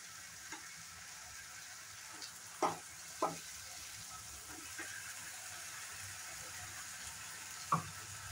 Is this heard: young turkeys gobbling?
no